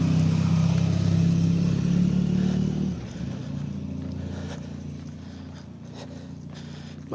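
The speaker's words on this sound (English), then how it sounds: "Motorbike went past." A motorbike passes close by on a street during a morning stroll, its engine droning loudly for a few seconds before fading off into the distance.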